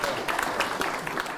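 Applause from an audience at a Chanukah in the City event in Melbourne for Rabbi Herzog, a short dense wash of clapping at fairly loud level with crowd murmur mixed in.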